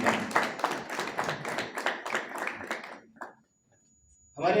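Audience clapping at a mushaira poetry gathering, welcoming a poet to the stage: dense steady applause for about three seconds that dies away, then a brief new burst.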